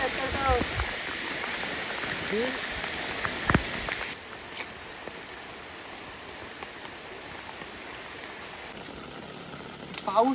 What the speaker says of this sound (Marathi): पाऊस पडतोय पाऊस चालू झाला आहे